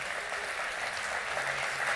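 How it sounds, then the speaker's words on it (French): Audience applause for municipal agents at a New Year's greetings ceremony in Mandelieu-La Napoule, a steady, moderately soft wash of many hands clapping at a distance, without talk. "vous pouvez les applaudir, ils le méritent"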